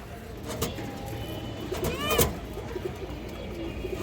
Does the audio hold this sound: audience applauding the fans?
no